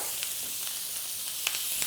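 Steak sizzles in a pan while it is basted with butter, garlic and rosemary. The frying hiss is steady and close, with a few soft spoon clinks and spatters, and no one speaks.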